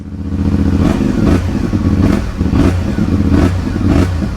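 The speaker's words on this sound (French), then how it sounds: "Je vais quand même vous démarrer le moteur" A CFMoto 450 MT motorcycle engine with stock exhaust idles loudly and close by with a deep, steady exhaust rumble, swelling in periodic blips of throttle.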